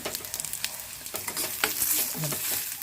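Yellow pumpkin stir-fried with a little turmeric in a pan: a close, steady sizzle with quick, repeated scraping stirs of a spatula, short and alone.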